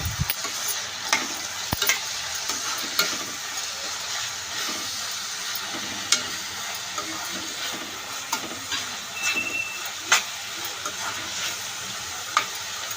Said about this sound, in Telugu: సన్నగా కట్ చేసుకున్న ఆనియన్స్ పచ్చిమిర్చి వేసుకొని బాగా ఫ్రై చేసుకోవాలి